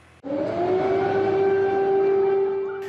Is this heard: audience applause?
no